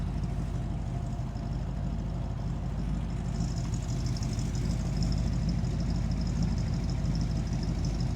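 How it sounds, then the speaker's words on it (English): A 1962 Chevrolet Corvette C1's 327 V8 exhaust idles, a low, steady rumble throughout, deep and continuous with a faint higher hiss layered on top. "we're going to take a listen to the exhaust"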